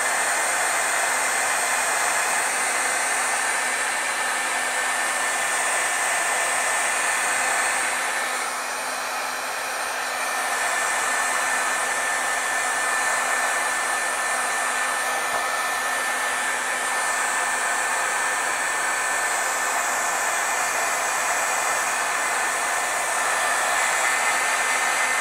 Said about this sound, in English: if you have a hair dryer, whatever, just to heat set this a little bit